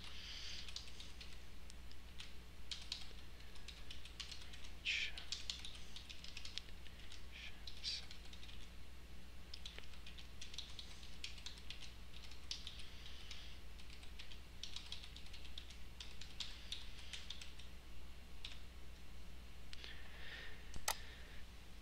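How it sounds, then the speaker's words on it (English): Typing on a computer keyboard while entering a short item description: steady, quiet key clicks patter on continuously for about twenty seconds over a low electrical hum, ending with one sharper click. "So I'm going to type out a brief item description, something that's less than 200 words."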